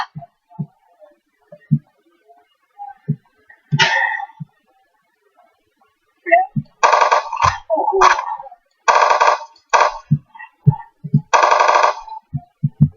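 Gunfire in the blocky zombie shooter Zumbi Blocks: a few sharp isolated shots, then several dense bursts of rapid automatic fire later on, with scattered thuds between bursts.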